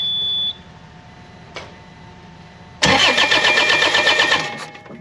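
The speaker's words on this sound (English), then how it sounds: "So I'm going to go ahead and start cranking the engine over." A Bobcat diesel engine cranks over after a short beep, a loud rhythmic churning burst lasting about two seconds before tapering off, close and alone.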